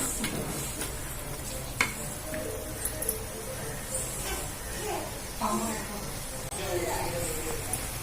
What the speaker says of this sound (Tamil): கொஞ்சம் மிளகாத்தூள் மஞ்சத்தூள் போட்டு கொஞ்சம் நல்லா வதக்கிக்கோங்க